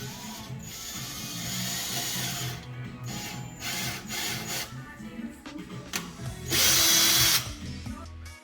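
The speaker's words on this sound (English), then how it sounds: "So here I'm putting in the screw, just making a little hole on where the hardware will go." A screw being driven into curtain hardware mounted on a wood frame, with a power drill whirring in several short, loud bursts and one sustained high run near the end, plus mechanical clicks between.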